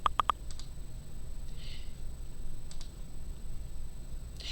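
Computer mouse clicks in 3D modeling software come as a quick cluster of three sharp clicks at the start, then a few softer isolated clicks later over faint room hum.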